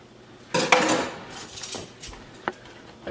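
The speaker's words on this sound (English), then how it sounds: "we can just take them and place them in the sauce" Cooked homemade meatballs go into a pan of sauce with a clatter of utensil against the pan, a sharp knock partway through, and soft clinks and scrapes around it.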